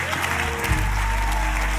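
A church congregation claps during a year-end offering service, a short, steady patter of applause from a large room alongside a low sustained musical hum.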